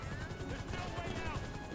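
Helicopter in the video game GTA V, a fast rotor chop pulsing steadily through the whole stretch, moderately loud, with faint game noise layered underneath.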